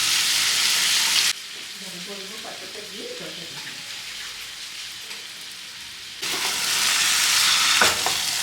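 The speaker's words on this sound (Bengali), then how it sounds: "আর বেশ কিছু সময় কষিয়ে নেবো।" Chicken pieces with yogurt and spices sautéing in hot oil, a loud hissing sizzle that drops to a quieter simmer with soft stirring and faint voices, then flares up loudly again.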